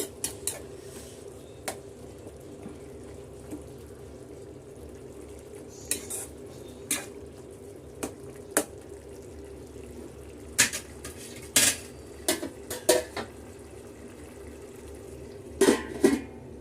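Prawns cook in a pan as a spoon stirs them, with scattered sharp metallic scrapes and clinks over a faint sizzle, close and otherwise quiet.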